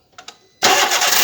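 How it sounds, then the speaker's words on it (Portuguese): Car engine starting after a timing belt replacement: a couple of brief cranking clicks, then the engine catches abruptly and settles into a loud, steady idle close by. "A correia já tá no lugar, vou funcionar aqui para ver se ficou filé o barulho."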